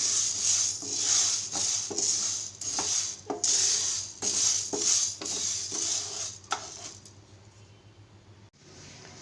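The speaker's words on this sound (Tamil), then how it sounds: "ஸோ அதனால தான் நம்ம லைட்டாக ரோஸ்ட் பண்ணிக்கிறோம்." Green gram (moong dal) being dry roasted in a pan, with a spoon scraping and stirring the lentils in repeated rhythmic strokes and a dry rattling hiss, close up and fading as the stirring stops near the end.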